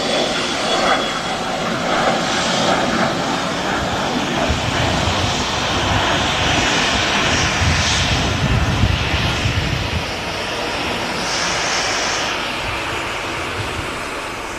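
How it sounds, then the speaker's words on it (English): An EasyJet airliner comes in to land at Manchester Airport, its jet engines roaring loud and broad, swelling and easing slightly as it passes, with no talking over it. "Waiting for the touchdown now of this EasyJet."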